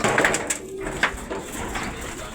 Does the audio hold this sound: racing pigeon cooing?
yes